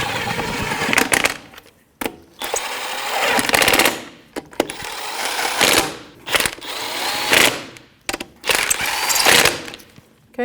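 A hand ratchet with a 19mm socket snugs the lug nuts on a 2007-2017 Jeep Patriot 2.4L, giving close, loud bursts of rapid clicking separated by short pauses.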